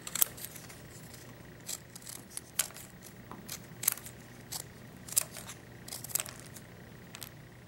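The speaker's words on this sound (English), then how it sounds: "I'm going to just start cutting it out in random shapes" Scissors snipping through spray-painted, texture-coated cardstock, cutting random shapes for a crumbling stone floor tile; crisp, close cuts come in irregular bursts over a quiet background, with no talking.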